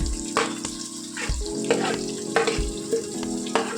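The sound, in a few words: onions frying in oil with cinnamon, cloves and curry leaves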